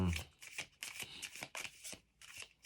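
Oracle cards shuffled for a reading: a close, quiet series of soft riffling and sliding bursts in an uneven rhythm, each lasting a fraction of a second, with no talking over them.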